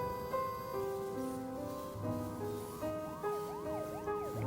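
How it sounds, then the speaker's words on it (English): Police car siren wailing behind the player in the video game Ghostpia, rising and falling sweeps that grow in the latter half over steady background music and ambience. "A siren coming from behind."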